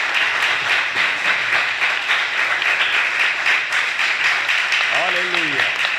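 Loud applause fills a church during a sermon, a dense, sustained wash of many hands clapping with a few voices rising underneath near the end.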